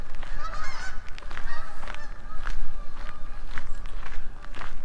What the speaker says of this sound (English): there's geese flying over